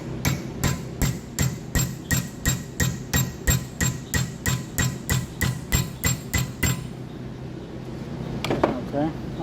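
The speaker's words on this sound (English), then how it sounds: "we're just going to take a hammer, kind of tap right here, and fold this 90 degrees and see what happens." Hammer striking a welded metal sample clamped in a vise, a rhythmic run of about twenty sharp metallic taps at close range, then stopping, followed by a brief voice.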